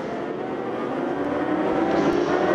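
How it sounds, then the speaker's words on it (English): Sidecar racing machines at the Le Mans circuit during a FIM Sidecar World Championship sighting lap, a loud continuous broadband engine roar that builds slightly as they pass, with no talk. "Just listen to the sound of these engines as they hit the, quicker time through La Chapelle and Musée."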